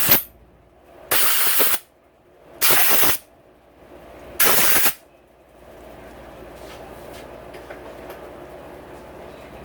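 Compressed air blasts grease off the valve keepers of a 2016 Honda CRF250R engine during a big bore and Hot Cams install, in three loud, roughly one-second hissing bursts, followed by quiet shop noise.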